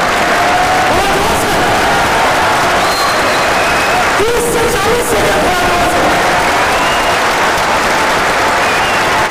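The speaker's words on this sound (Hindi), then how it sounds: "30 से 40 सेकंड आप मजा आ गया के साथ तालियां बजाते रहे" A large audience at a motivational training session claps loudly and continuously, a thick sustained roar of applause with a brief swell of cheering partway through.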